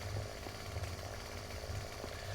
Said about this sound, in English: Chainsaw's a little loud here